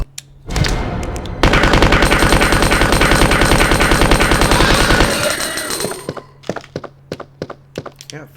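Video game gunfire with unlimited ammo: a long, loud unbroken burst of rapid automatic fire, bracketed by a few isolated shots before it and scattered single shots after, with no talking.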